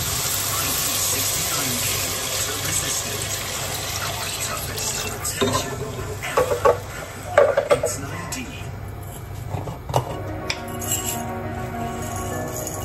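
Water poured into a pot of cooking tomatoes for a fish stew, with clanks of pot and utensils rising midway over a steady background hiss.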